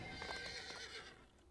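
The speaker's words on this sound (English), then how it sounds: "Now I can't get on the horse." A horse in the DDO video game lets out a high whinnying neigh over faint hoof sounds, quiet and brief, with no talking.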